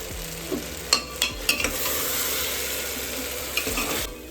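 Garam masala sizzling and being stirred in a pan while pulao is cooked, a steady close frying hiss broken by a few sharp scrapes and clinks of the spoon, with no talking.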